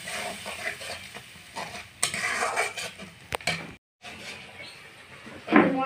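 Spice paste with salt being stirred and lightly fried in a pan for a Bengali egg and poppy seed dish, with a utensil scraping and clattering against the pan over a soft sizzle, close and fairly loud, with a brief pause near the end.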